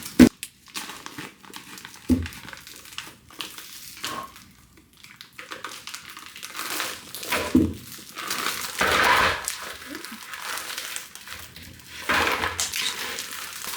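A vacuum-sealed plastic bag of frozen tomatoes crinkles and crumples as scissors cut it open with effort, close-up, with irregular rustling bursts and snips and no talking.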